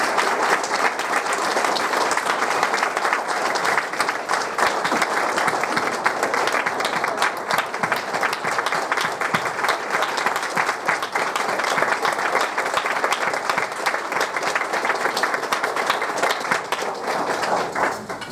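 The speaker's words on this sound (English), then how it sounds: "let's give one more round of applause to our 2016 Hall of Honor inductees" A large audience gives sustained, dense applause for the 2016 Hall of Honor inductees at a school district induction ceremony, the clapping steady and loud from start to finish.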